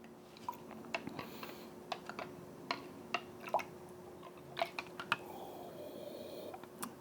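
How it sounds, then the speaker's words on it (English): A spoon stirs a cup of Blue Bottle instant coffee, tapping and clinking against the sides in a quiet, uneven run of small, sharp clicks. "So we'll give it a stir."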